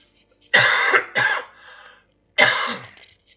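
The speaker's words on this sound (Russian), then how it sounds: "Ой, извиняюсь, ребята, это кашель." A man coughs up close, with three harsh, loud bursts: two in quick succession followed by a short raspy tail, then a single cough after a pause, all in otherwise quiet surroundings.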